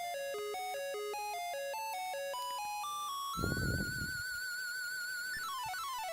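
Commodore 64 SID chip demo music played on TheC64: bright chiptune square-wave melodies in stepping arpeggios, a burst of noisy percussion midway, then sustained high tones, steady and fairly loud with no talk.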